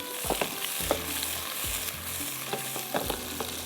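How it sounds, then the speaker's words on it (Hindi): Chicken kebabs frying in a pan, a steady close sizzle broken by regular scraping stirs of a spatula, no voices. "कबाब फ्राई करके निकालेंगे"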